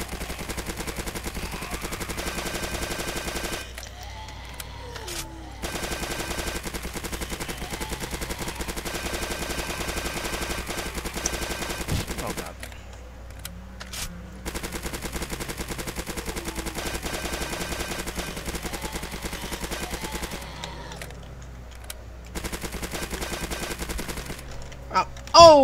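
Rapid automatic weapon fire in a Roblox zombie game, in long sustained bursts broken by brief pauses, loud and continuous throughout.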